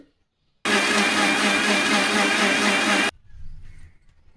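An electric mixer grinder jar spins at full speed, a loud steady whirring roar that starts abruptly, runs for about two and a half seconds and cuts off, leaving a faint rattle afterward.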